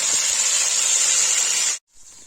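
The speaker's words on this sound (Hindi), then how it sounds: "गाइस देखिए आलू फ्राई हो गया" Potatoes and paneer frying in hot oil for a Kashmiri paneer aloo dish give a loud, steady hiss that cuts off abruptly near the end, followed by a quieter resumed sizzle.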